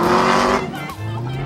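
A GMC truck accelerating hard on a hot lap at a Barrett-Jackson event in Orange County: loud roaring engine with rising pitch and tire noise, close and continuous, with a voice faintly underneath.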